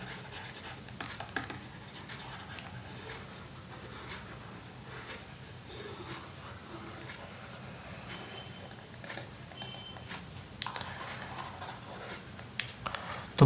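Pen scratching across paper in a close, quiet stream of short strokes and taps, with brief pauses between marks and no talking.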